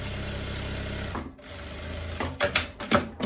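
A sewing machine stitches a linen skirt pocket, whirring steadily at close range for over a second, pausing, then running in short bursts of stitching.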